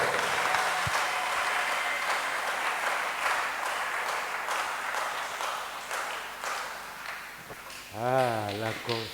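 A congregation applauds during a Sunday church service, a steady wash of clapping and crowd noise that carries throughout and ends with a voice speaking over it.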